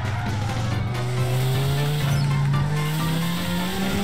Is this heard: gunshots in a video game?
no